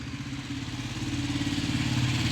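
A motorcycle engine idles close by, a steady low throbbing putter with a regular pulsing beat and no voices over it.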